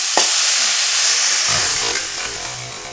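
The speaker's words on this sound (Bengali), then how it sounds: "ভালো করে কষানো হয়ে গেছে এখন আমি দিয়ে দেবো জল" Water poured into a sizzling pan of vegetarian potato curry (alur dom), a sharp loud burst of steam and hiss that settles into bubbling frying, heard close up without speech.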